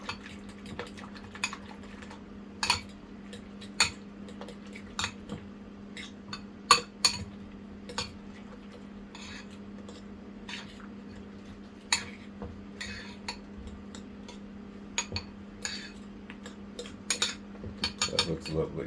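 Stirring or whisking a mixture in a bowl for a Jamaican casero, heard as scattered light utensil clinks and scrapes against the bowl over a steady low hum, with occasional faint talk.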